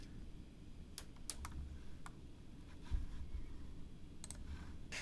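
Faint, close computer clicks, a handful of sharp isolated taps spaced irregularly over a quiet background hiss.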